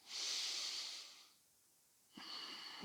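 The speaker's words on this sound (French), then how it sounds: "On fait la même chose, mais on va expirer par le nez." A slow, deep breath out through the nose during a beginner yoga sun salutation, heard as a long soft airy hiss that fades, followed after a pause by another breath, close and quiet.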